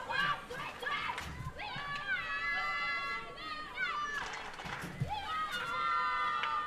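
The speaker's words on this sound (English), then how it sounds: "We can hear this crowd going, Bhutan, Bhutan" A cricket crowd at a Bhutan versus Myanmar women's T20 international chants "Bhutan" over and over. The loud, close, voiced cheering swells and dips in a steady rhythm.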